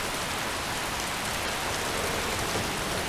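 Rain falling in the Skyrim video game at Riverwood, a dense, loud, even hiss of steady downpour with no voices or other sounds over it.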